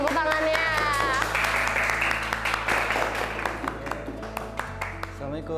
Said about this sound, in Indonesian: Betul, tepuk tangannya.